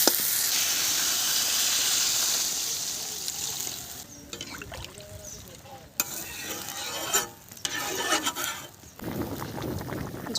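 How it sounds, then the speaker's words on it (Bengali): Water poured into a pan of fried spice paste with turmeric and salt for a fish curry, loud sizzling and hissing at first, then softer stirring, scraping and bubbling with intermittent sharp scrapes. "মশলা কষা হয়ে গেছে, এবার আমি জল ঢেলে দেবো"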